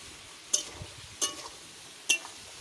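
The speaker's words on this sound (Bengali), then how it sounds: "দেখতে পাচ্ছ আমি কিরকম করে ভেজে নিচ্ছি" Duck meat frying in a pan, Bengali style, with three sharp metallic clinks of a spoon stirring against the pan over a faint steady sizzle; no talking.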